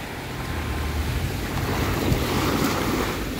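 Ocean waves wash in as steady broadband surf, with wind buffeting the microphone throughout, a continuous rushing roar without a pause and no voices.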